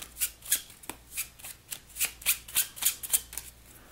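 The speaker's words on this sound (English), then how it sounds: "We're going to give them a shuffle." A deck of slave market cards from a board game is riffled and shuffled by hand, giving a quick run of crisp, papery bursts at an even rhythm, close and without talk.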